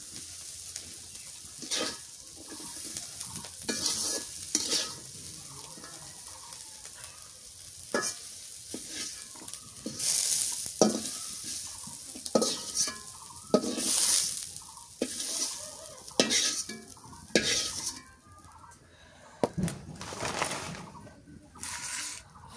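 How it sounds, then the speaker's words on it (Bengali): Yardlong beans with potato and vegetables are frying in a pan, with a steady sizzle broken by repeated scraping stirs of a spoon, loud and close, and little talk. "বটবটি ভাজা হয়ে গেছে, আলু দিয়ে সবজি দিয়ে।"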